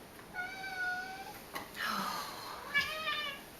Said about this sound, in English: My cat is going nuts right now.